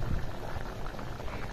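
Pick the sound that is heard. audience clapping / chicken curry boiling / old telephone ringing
chicken curry boiling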